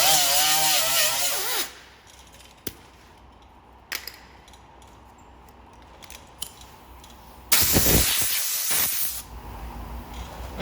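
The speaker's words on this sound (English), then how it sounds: "So I'm going to grind all this paint off from around here." A power grinder strips paint from the body of a Honda Pilot car, a harsh, close hissing grind in two bursts at the start and near the end, with quieter handling noise between.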